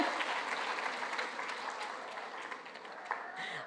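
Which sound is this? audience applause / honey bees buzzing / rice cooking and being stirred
audience applause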